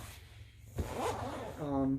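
Zipper on a guitar case being pulled, a short rasping zip run near the mic, followed by a voice talking at the end.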